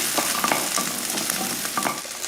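Small shallots and garlic cloves sautéing in a pan, a steady close-up sizzle with occasional stirring scrapes throughout, no voices.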